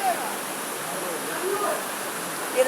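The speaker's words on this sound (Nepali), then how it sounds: "यहाँबाट यस्तो पानी एकदम होइन झर्ना जस्तै झरिरहेको" Water tumbling down a small waterfall near Nagarkot, a steady broadband rush heard close and continuous, with faint voices briefly in the background.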